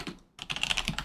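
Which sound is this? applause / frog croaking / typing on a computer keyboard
typing on a computer keyboard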